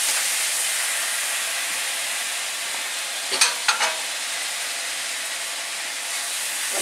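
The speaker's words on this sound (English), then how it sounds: "And I continue to fry it with the egusi." Tomato sauce frying with egusi in a pot gives a steady, dense sizzle and hiss throughout, with a brief cluster of stirring clicks and scrapes midway.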